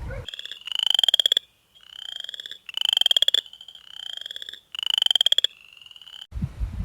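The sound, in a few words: upland chorus frog calling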